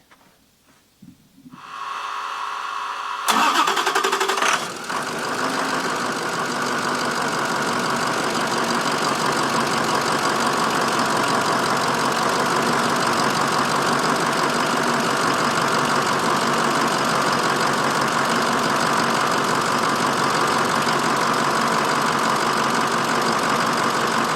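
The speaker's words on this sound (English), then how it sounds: "So the engine starts up and it does awesome" A bus engine cranks briefly and catches, then settles into a steady, loud idle that runs on evenly without any voices.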